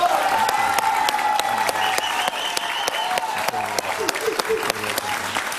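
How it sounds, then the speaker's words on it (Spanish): A studio audience at a televised interview applauds former Colombian president Álvaro Uribe, many sharp distinct claps ringing out over sustained applause while a voice speaks and music plays softly beneath. "pido un aplauso para él, por favor"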